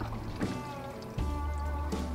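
Water poured from above onto a seed tray of mostly dry, slightly damp planting mix for radishes: a soft, steady trickle with a couple of brief splashy bursts, close and fairly quiet, with no talking.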